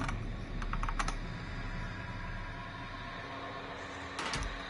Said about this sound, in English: Oh, fast typing, yeah, sorry.